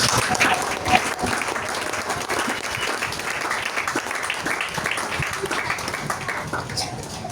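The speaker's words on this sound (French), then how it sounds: "Est-ce que tu peux encore acclamer Jésus?" A church congregation applauds and cheers for Jesus with steady, dense clapping that carries through the whole stretch, with a slight early peak, and some faint voices mixed into the noise.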